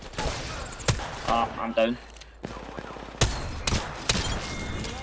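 Rapid bursts of gunfire in the video game Apex Legends, several sharp loud shots and short volleys scattered through the stretch, with a player's voice speaking briefly over the action.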